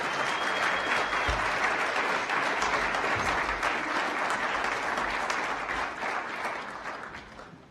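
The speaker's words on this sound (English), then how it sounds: "Give them a round of applause for all that they do." Graduates at an Executive MBA ceremony receive a full round of applause from the hall, dense sustained clapping that gradually thins and fades out at the end.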